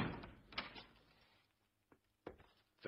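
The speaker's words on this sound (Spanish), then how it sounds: "Cerrad la puerta." A door being shut in a quiet room: a soft bump and sliding scrape, then a couple of sharper knocks as it settles, faint and near, with no talking.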